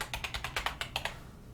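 Fingers type on a computer keyboard, giving a quick, close run of about ten crisp keystroke clicks that then trail off.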